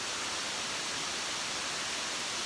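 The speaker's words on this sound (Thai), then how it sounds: "แล้วก็น้ำตกสวยทีเดียวนะฮะ" Broadband, steady rushing water of Kuang Si waterfall near Luang Prabang, Laos, a dense continuous roar with no other sounds standing out.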